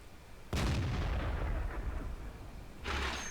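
Cannon fire from heavy tanks such as a KV-5 in a World of Tanks battle: a loud, close booming shot that rolls into a long rumbling decay, followed by a second sharp blast near the end.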